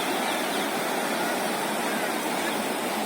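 River water pours over a dam near a temple in Lower Chutia, Ranchi, a steady, loud broadband rush that goes on without a break.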